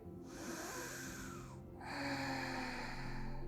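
Slow, deep breath drawn in during a relaxing evening yoga session, one steady inhale that swells and then a second breath stretching for several seconds, close and soft with no talking.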